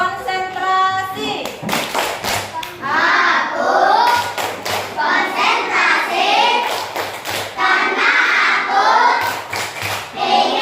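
A classroom of children claps the 'tepuk konsentrasi' chant, sharp rhythmic hand claps in repeated bursts mixed with chanted voices, loud and close.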